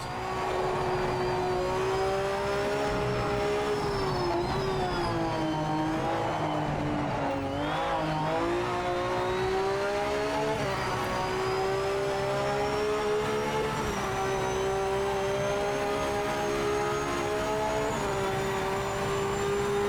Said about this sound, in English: Does this car in real life have straight cut gears? Because it's quite clear that it does in this game.